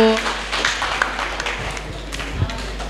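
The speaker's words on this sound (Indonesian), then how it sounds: "Silakan tepuk tangan dulu dong untuk kelompok 1." Classmates in a school lesson clap for group 1 after its project presentation, producing moderate, steady scattered applause with a few sharper claps and some murmuring voices in the room.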